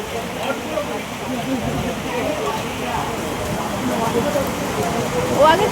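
Heavy rain pours beside a highway as a dense, steady roar of falling water, with voices talking faintly underneath.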